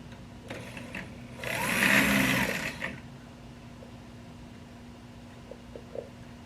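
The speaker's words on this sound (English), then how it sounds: "And let's set it up so that the drill goes straight through there." A drill press bores through a metal part for a Raritan riding car, a brief loud whirring burst of about a second and a half rising and falling over a quiet workshop hum, followed by faint clicks.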